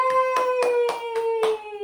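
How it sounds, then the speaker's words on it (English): A handful of sharp hand claps in a home during a parent's night-time routine with a four-month-old baby: five close, evenly spaced claps over a steady sustained tone. "Clap, clap, clap."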